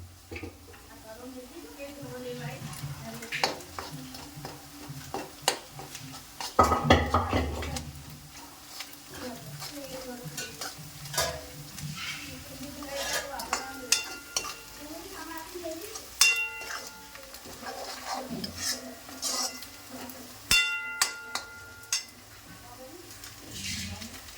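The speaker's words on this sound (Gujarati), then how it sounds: "હવે આપણે એને થોડી વાર માટે શેકાવા દઈશું." Onions roast in a pan for a goat mutton curry, giving a soft crackle and sizzle with scattered spoon stirs and metallic clinks, while a person talks over much of it.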